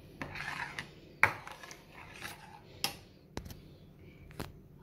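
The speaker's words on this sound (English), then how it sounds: "Mix it well." A spoon scrapes and clinks against a pot while sheer khurma is stirred with condensed milk, giving soft rubbing sounds broken by a few sharp metallic taps.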